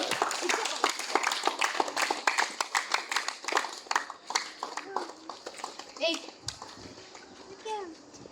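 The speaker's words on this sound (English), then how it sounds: "Big round of applause for both." Audience at a gully cricket league event applauds in scattered, uneven bursts, claps rising and falling over several seconds with voices and shouts mixed in.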